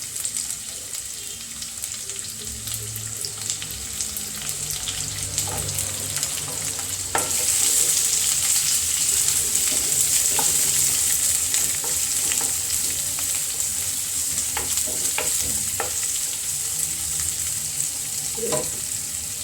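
Onions fry in a pan for paneer butter masala, giving a continuous, even sizzle with scattered light clicks and stirring taps throughout, growing slightly louder partway through.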